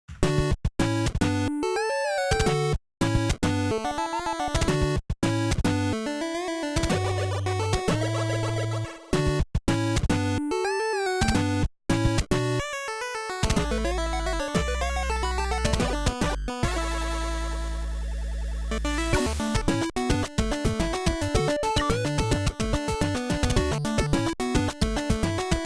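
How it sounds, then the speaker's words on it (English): NES-style chiptune music built in Famitracker, with square-wave leads, bass and noise-channel drums playing continuously at a steady, loud level with brief gaps and a sustained tonal stretch midway, no voices present. "it is a piece of software that is used to create NES music."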